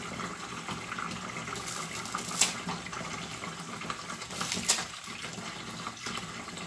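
Pandan leaves are rinsed under a running tap, a steady hiss of flowing water with a couple of brief splashy surges, no talking.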